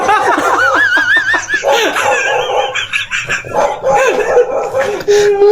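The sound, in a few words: dog barking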